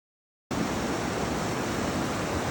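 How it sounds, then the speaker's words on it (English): A river flows beside a riverside cafe in the Spiti valley, and its loud, unbroken roar of rushing water starts suddenly after a brief silence. "So there is a river"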